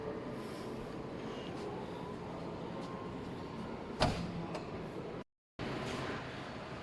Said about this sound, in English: And to close it, you just kind of push up there.